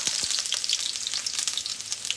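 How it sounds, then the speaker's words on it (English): Wood ear, fish and oyster mushrooms sizzle in a hot frying pan, a dense continuous hiss broken by frequent sharp pops and crackles, close and fairly loud with no talking. "Ooh, that's popping, okay? Y'all hear that pop? Whoa. That's called that sizzle"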